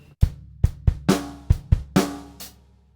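A drum kit plays a short groove alone, punchy bass drum hits alternating with sharper snare strikes, about eight hits over three seconds, close and clear.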